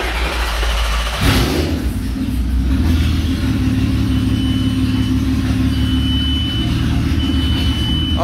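A go-kart fitted with an R32 engine fires up after a brief crank and settles into a loud, rough, throbbing run close by, with the engine revving and droning steadily.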